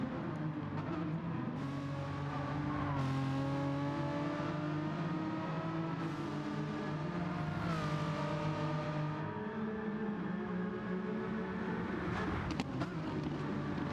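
Race cars lapping a circuit in Gran Turismo 7 during an online Sunday championship race: engines rev and shift, pitch climbing and dropping again, a continuous close roar with occasional passing whooshes.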